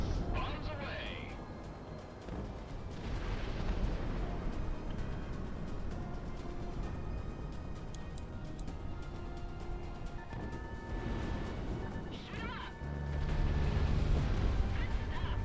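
Bombs dropped from an aircraft in Project Wingman explode as a series of deep rumbling blasts beneath steady jet engine noise, while a person talks over the action.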